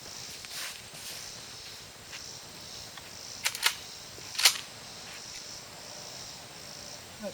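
Reloaded .38 Special rounds fired at a gun safe, several sharp cracks including a quick pair and a louder single shot, over faint ambient noise.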